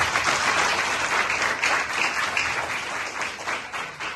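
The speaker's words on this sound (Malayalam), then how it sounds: "നമ്മുടെ മുജീബ് മാഷിന് നല്ലൊരു ബിഗ് ക്ലാപ്പ് കൊടുക്കും" An audience gives a big round of applause for Mujeeb Mash, a ward member, at a guidance and motivation event in Kalikavu, steady dense clapping from many people lasting several seconds.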